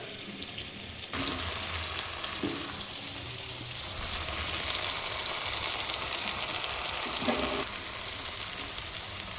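Pieces of bottle gourd hit hot oil in a pan with potato already frying, setting off a sudden loud, dense sizzle that holds steady for several seconds, close by, with no talking.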